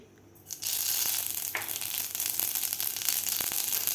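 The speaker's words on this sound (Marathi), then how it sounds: "तेल आपलं गरम झालेलं आहे आता यामध्ये घालायची आपल्याला पाव चमचा मोहरी" A quarter spoon of mustard seeds hitting hot oil for a spicy brinjal dish: after a near-silent start, a loud, sudden sizzle bursts in and holds with crackling pops and small clicks scattered through it.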